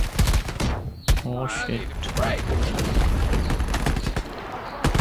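Rapid automatic gunfire and bursts crackle through a hectic firefight in the PC shooter Shatterline, with a boss fight underway, loud and nearly continuous, while a player's voice shouts over it.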